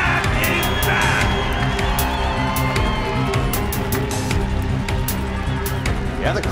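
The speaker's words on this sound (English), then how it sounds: "Yeah, the crowd loves it." A loud crowd cheers and whoops at a bass fishing tournament weigh-in on Cayuga Lake, a dense, steady roar with sharp shouts and claps running through the whole stretch.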